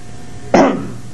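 A single sharp cough from an elderly man, a World War II B-17 navigator, close and loud against a quiet indoor background.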